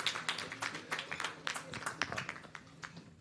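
An audience applauds a doctor on a Hindi TV programme, a fairly faint spatter of separate claps that thins out over a few seconds, with a voice under it.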